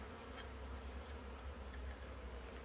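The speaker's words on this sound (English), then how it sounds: "Nurse bees, while the other bees that are flying around darker" Honeybees buzz in a dense, continuous drone around an open hive, close and steady, with individual bees passing by.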